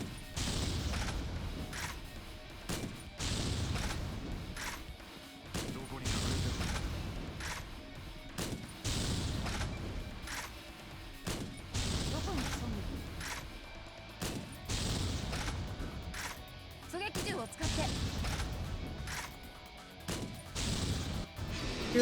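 Sniper rifle shots in Yakuza Dead Souls, a long run of sharp, evenly spaced cracks with faint mechanical noise between them, loud and close with no voices.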